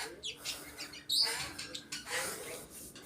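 Bird chirping alongside a dog in a home setting, several short high tweets scattered through the clip, one louder burst near the middle, with faint background noise.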